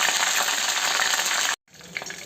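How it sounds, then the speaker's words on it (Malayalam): Mustard seeds crackling in hot coconut oil with dried red chillies and curry leaves for tempering, a dense close sizzle that cuts out abruptly and then resumes more faintly. "കടുക് ഒന്ന് പൊട്ടട്ടെ."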